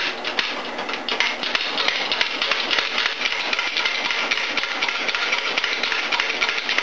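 A 20-ton Harbor Freight shop press forcing a part out of a transmission, giving a steady loud grinding, creaking strain with small knocks throughout, alone and close by.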